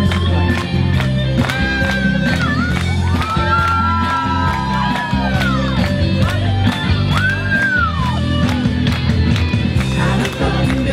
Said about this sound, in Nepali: सबैजना ताली बजाउनुहोस् परमेश्वरलाई